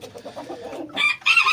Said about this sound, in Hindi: ये गलत चक्कर हो गया जी, अंदर चला गया मुर्गा